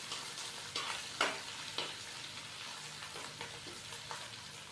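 Ginger, garlic and green chili paste sizzling in hot oil for chicken pulao, with a steady frying hiss broken by several distinct scrapes and clanks of a spoon stirring against the pan, close and clear, without any talking.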